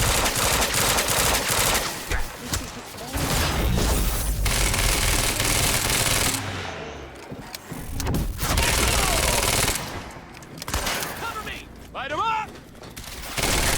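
Rapid bursts of automatic gunfire in an industrial area in Quantum Break, loud repeated volleys broken by short pauses, with the shooting stopping and starting several times across the stretch.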